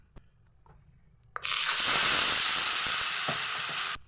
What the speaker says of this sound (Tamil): கடாய் சூடானதும் அரைச்சதை சேர்த்துடலாம்.